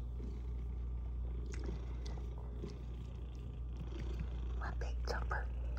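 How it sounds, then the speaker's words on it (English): A pet cat purrs as a low, steady rumble running under a person's soft talk, with a few brief higher sounds near the end. "Missed that big purr"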